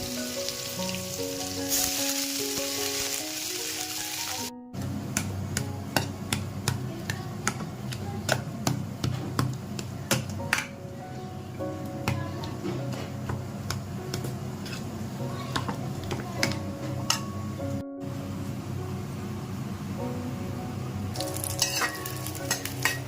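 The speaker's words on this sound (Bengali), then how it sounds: "পেঁয়াজটা ভাজা হতে থাকে" Chopped onions fry in oil with dried red chillies for a lentil tempering, a quiet, steady sizzle dotted with small crackling pops. A voice briefly sounds near the start.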